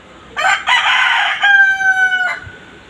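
A rooster on a poultry farm with laying hens crows loudly and close by in one long drawn-out call lasting about two seconds, standing alone against quiet background.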